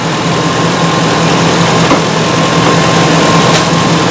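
Ford E350 with a 5.4L engine and a misfire idling, a loud steady drone with a constant hum, close by and without talk.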